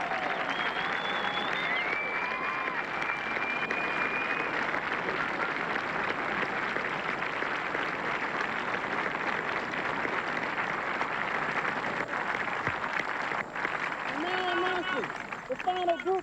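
Golf gallery at the final green of the 1999 State Farm Rail Classic LPGA event in Springfield, sustained loud applause from a large crowd throughout, with a few whistles and cheers rising above it.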